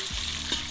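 Dough fries in hot oil with a close, steady crackling sizzle through the short moment, and no voices.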